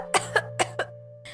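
A woman gives a short series of four quick dry coughs close by, followed by a fainter fifth one, over a steady low hum.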